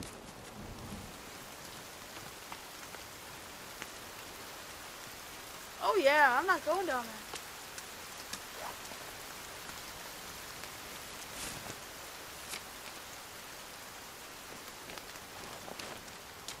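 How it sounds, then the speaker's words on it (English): Steady rain falls in the survival video game The Forest, a soft, even hiss running the whole way through with scattered faint drip ticks, while a single voice speaks briefly partway through. "Oh, that's rain."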